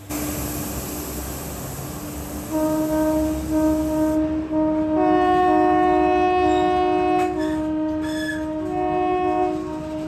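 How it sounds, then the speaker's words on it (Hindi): A train horn blows loud and sustained, a steady harmonic blare that shifts pitch and repeats, over the rumble of a moving train. "लोको पायलट महोदय ने इस चीज़ को नोटिस कर लिया था, वो लगातार हॉर्न बजा रहे थे"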